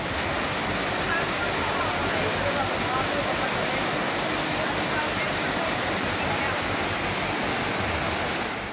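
Flood water rushing down a mountain river in Kullu after a cloudburst, a dense, loud, unbroken roar of churning water that holds steady throughout with no pauses.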